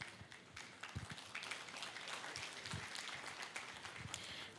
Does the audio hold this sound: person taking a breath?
no